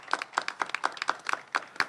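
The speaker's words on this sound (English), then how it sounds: "Let's give them all a round of applause" A small group claps for county domestic violence help line committee members, a short burst of distinct, rhythmic hand claps, close and clear, with no talking over it.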